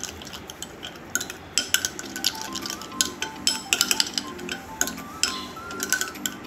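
A spoon stirs a face pack paste in a bowl, clinking and scraping against the sides in quick, uneven taps. The sound is close and continuous, with no speech.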